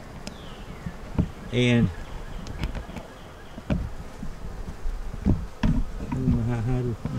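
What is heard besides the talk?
honeybees buzzing around hives during an inspection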